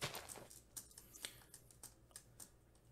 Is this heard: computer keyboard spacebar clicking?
yes